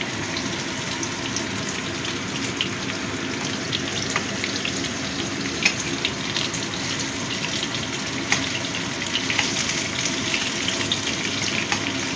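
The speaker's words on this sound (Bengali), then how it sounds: "এবার প্রথমে আমি আলুগুলো ভেজে নেব। আলুগুলো লাল লাল করে ভেজে নেব।" Potatoes fry in hot oil, a steady dense sizzle and crackle continuing throughout at close range, with occasional small pops and no talking.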